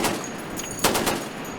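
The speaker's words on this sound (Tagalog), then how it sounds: "Nagpaulan din ng putok sa dagat ang BRP Ramon Alcaraz." Naval ship guns firing at sea during a gunnery exercise, heard as a rapid burst of several sharp, distant-sounding shots over steady wind and engine noise.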